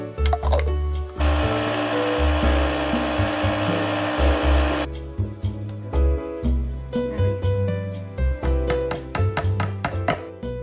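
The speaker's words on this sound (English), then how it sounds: "blending it all together makes it smoother, and grinding it" A blender grinding sugar and powders roars steadily at full power for a few seconds, then cuts off, leaving clattering and other kitchen noises.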